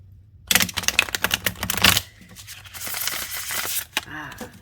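A deck of cards is riffled in a rapid burst of crisp flicking clicks, followed by a softer, papery shuffling rustle.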